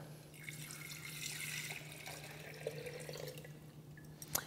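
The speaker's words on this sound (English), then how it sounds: "I'm going to fill this up with 4 cups of water" Water pours from a tap into a Cuisinart TEA-100 tea steeper, a faint steady trickle and splash with a soft low hum underneath, ending with a few small clunks.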